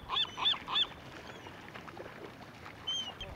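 Seagulls calling at a harbor while being fed: a few sharp, nasal squawks in a quick cluster, then a fainter cry later over an open outdoor background, fairly close.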